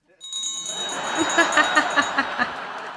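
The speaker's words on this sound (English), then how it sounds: "Where did you get a bell?" A small bell rings in a sitcom scene, a run of bright, quick repeated dings close by over a steady ringing tone, with no talking.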